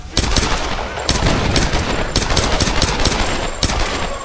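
Rapid gunfire from the Tomb Raider video game, with loud, dense bursts of shots cracking in close succession and a few sharper single reports standing out, all near and dominant with no talking.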